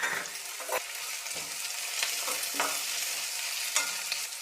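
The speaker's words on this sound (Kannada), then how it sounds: "1-2 ಸ್ಪೂನು ಎಣ್ಣೆ ಬಿಸಿಯಾಗಿದೆ. ಈರುಳ್ಳಿ ಸೇರಿಸ್ತಾ ಇದ್ದೀನಿ." Onion, green chili and curry leaves fry in hot oil in a pan, a continuous close sizzle broken by several stirring scrapes, with no talking.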